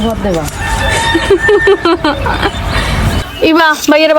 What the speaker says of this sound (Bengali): মুরগি পার্টি চলে আসছে